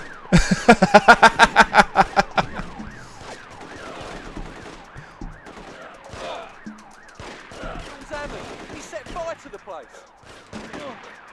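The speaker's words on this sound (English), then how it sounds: "all the cops are shooting me now, because I shot one of them" Police open fire on the player in The Getaway, a burst of about ten rapid, loud gunshots in the first two seconds, then scattered shots, sirens and game noise under a talking voice.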